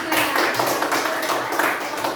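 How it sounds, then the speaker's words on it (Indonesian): Applause from a classroom of students for a group, dense continuous clapping filling the whole moment at steady loudness. "kasih tepuk tangan untuk kelompok 3"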